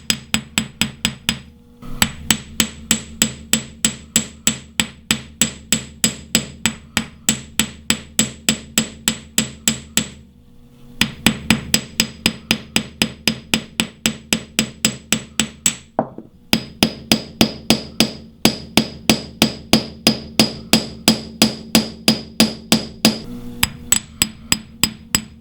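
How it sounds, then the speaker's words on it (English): A ball peen hammer strikes silver wire for a wire wrap necklace in fast, evenly spaced metallic taps, loud and near, repeating in long runs with a few short pauses. "Then I switch to the ball peen to get a little bit more texture."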